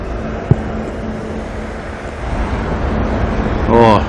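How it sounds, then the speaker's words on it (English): Road traffic near Auckland Airport, a steady broad rumble of passing vehicles that swells louder toward the end, with a sharp knock early on and some tonal engine whine late. "Oh, but now we're getting a lot of road noise too."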